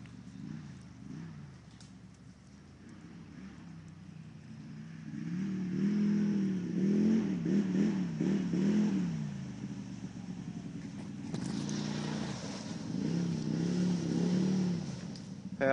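Gade 1000 vehicle engine running as it tries to ride on top of ice, a steady low rumble that swells into revving bursts midway and again near the end, fairly close and with no talk.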